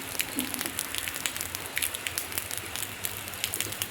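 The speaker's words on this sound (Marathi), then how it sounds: "मस्त पाऊस येतोय." Steady rain falling on a Sunday morning, a soft, even patter of many droplets with scattered brighter ticks, fairly faint and continuous with no talking.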